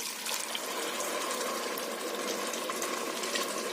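Steady, continuous stream of water pouring and splashing into a pot of lentils for Egyptian koshari, close by and fairly loud, with no talking.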